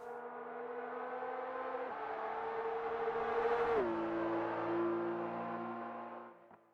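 A Porsche 911 GT3 RS with a 4-liter naturally aspirated flat-six, 525 horsepower, driving on track, its engine whining in a steady climbing tone, dropping sharply on a gear change, then climbing again before lifting off near the end.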